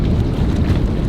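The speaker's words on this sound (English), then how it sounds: "This super windy system is pushing on through." Strong wind from a passing squally weather system buffets a sailboat, heard as a loud, close, continuous low roar of gusts rumbling against the microphone, with no talking.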